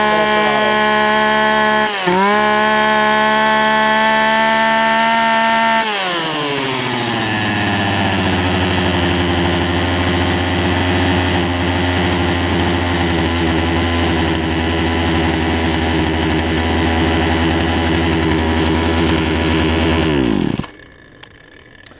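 A Poulan Pro 18-inch two-stroke chainsaw engine runs loud and close, buzzing high for several seconds, then dropping to a steady lower drone before cutting off abruptly near the end.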